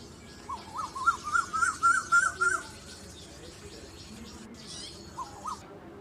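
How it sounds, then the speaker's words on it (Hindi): An Asian koel gives a rapid series of repeated rising whistled notes, then a brief call later, over steady background noise. "तो कोयल गला सुन लेते हैं।"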